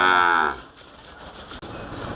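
A Holstein Friesian heifer on a cattle farm lets out one loud, deep moo right at the start, then it fades into quieter open-air farm background.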